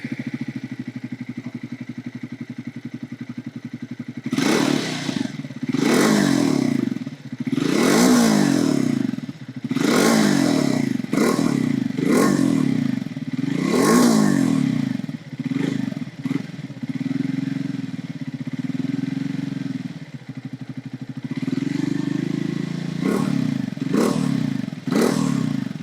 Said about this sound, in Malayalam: Single cylinder എഞ്ചിനുള്ള ബൈക്കുകളിൽ one of the sweet sounding ബൈക്കുകൾ ഒന്നാണ് ഈ കാണുന്ന ട്രയംഫ് സ്പീഡ് T4 എന്ന് പറയുന്നത്.